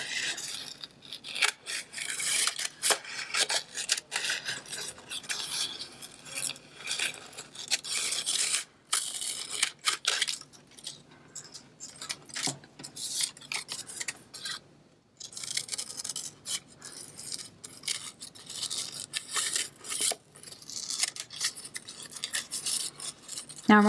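Scissors snip and rustle through paper to cut flower shapes for a paper flower bouquet, a long run of quick, close crisp cuts and scraping paper handling with brief pauses.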